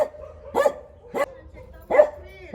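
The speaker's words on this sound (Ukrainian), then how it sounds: "Хто тут гавкає?" A small house dog barks in short bursts, about four sharp yips spaced roughly half a second apart, fairly close in a quiet indoor room at a New Year gathering with a grandmother, over a steady low tone.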